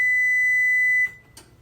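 An oven timer gives one steady high electronic beep lasting about a second, then cuts off, followed by a faint short clatter in a quiet kitchen.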